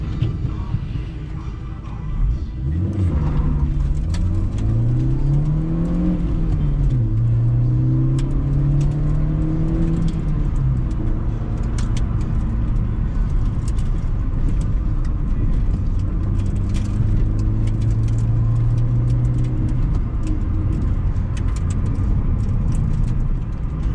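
A 12-valve 1.3-litre petrol engine in a Hyundai Accent drones from inside the cabin, revving up and down through gears before settling into a steady hum.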